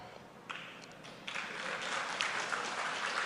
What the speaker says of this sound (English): First time I'm hearing people cheering for Pakistan.